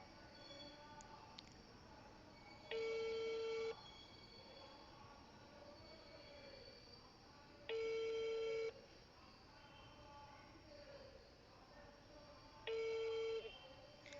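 An outgoing phone call rings back three times at regular intervals of about five seconds, each ring a steady tone lasting roughly a second, heard faintly through the line over a low background hiss.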